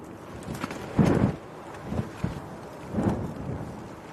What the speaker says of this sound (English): if you can hear all the flapping in the background, that is our umbrella and sides that are attached to it